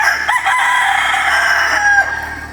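A rooster crows loudly and close by, one long drawn-out call with bright harmonic tones that rises and then tapers off.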